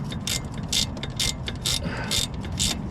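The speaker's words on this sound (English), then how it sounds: "Without this tool, these ratcheting wrenches, box ends, I don't think you can get this on or off." Milwaukee box-end ratcheting wrench on a 14 mm rear motor mount bolt of a Scion xA, giving crisp repeated ratchet clicks in short bursts, about six strokes with brief pauses over steady low background noise, close and clear.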